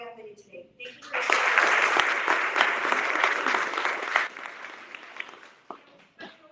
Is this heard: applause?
yes